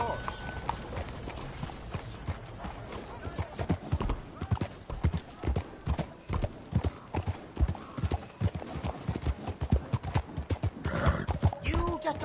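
Horse hooves clip-clop in a steady trotting rhythm in Red Dead Redemption 2, with a horse whinnying near the end and faint voices underneath.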